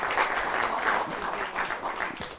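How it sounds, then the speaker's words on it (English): A small group at a monthly training session gives a short, continuous round of applause, moderately loud and steady throughout. "Let's give her a round of applause."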